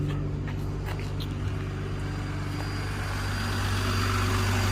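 A BMW engine idles steadily after a JB4 tuner install, a constant low drone close by with no revving and no voices.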